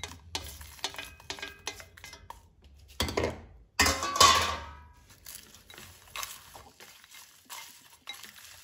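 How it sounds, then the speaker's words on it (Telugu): Curry leaves and dried red chillies dropped into a hot pan for beetroot spice powder, a sudden bright sizzle bursting up and fading over a second or two, with light stirring and scraping clicks before and after. "ఇప్పుడు మనం దీంట్లోకి మనం రెడీ చేసి పెట్టుకున్నటువంటి కరివేపాకు అలాగే ఎండుమిర్చిని వేసేసుకుందాం."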